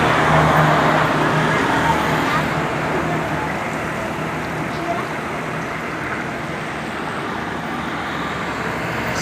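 Buses roaring along the Ajibarang-Bumiayu road in Indonesia, a loud, steady rush of engine and tire noise from close by that eases slightly as a fast bus passes, with voices faintly underneath.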